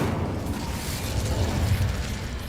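Incendio fire spell cast in Hogwarts Legacy, heard as a loud, sustained whooshing roar with booming, bursting low rumble that stays dense throughout, with no talking over it.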